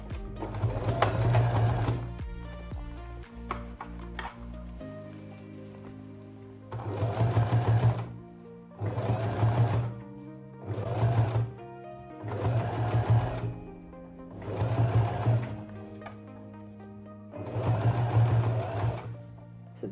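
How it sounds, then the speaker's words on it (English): Sewing machine understitching a dress neckline, running in about seven short bursts of rapid mechanical stitching separated by brief pauses, close and clear with no talk. "So that's as far as my machine's going to allow me to understitch"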